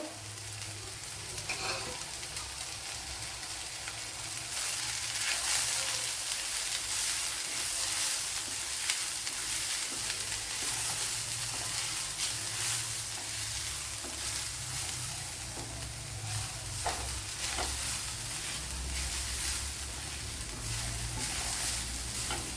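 A handful of grated coconut sizzles steadily in a hot pan for a curry, with a spatula stirring and scraping through it in soft, irregular strokes. The frying hiss is continuous and fairly quiet, with no talking.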